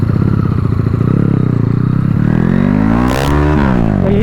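A Yamaha 110i motorcycle revved hard in second gear, its engine note rising and falling with the throttle as the bike surges forward, loud and close, with rattling clatter and no talking.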